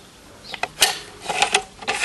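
Bolt of a Lee-Enfield No.4 rifle being drawn out, giving a few quiet metallic clicks and sliding scrapes in short, uneven bursts, close by.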